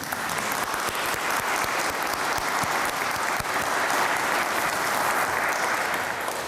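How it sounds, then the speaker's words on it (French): A church congregation applauds the young people at a Sunday youth service, steady dense clapping holding at a moderate level throughout with a few sharper individual claps standing out. "Alors, je vous invite à les applaudir."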